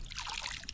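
Running water in a stream trickles and burbles close by, a brief, steady babble with no voices.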